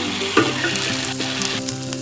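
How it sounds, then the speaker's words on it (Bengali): Fried duck eggs dropped into sizzling spice masala that has released its oil for a village-style Bengali duck egg curry: a sudden louder splash of sizzle, then brisk frying and stirring up close, no voices. "মশলা ভাজা হয়ে গেছে মশলা থেকে ফিরে দেখুন তেল ছেড়ে দিয়েছে এইবার ভেজে রাখা ডিমগুলো দিয়ে দেবো"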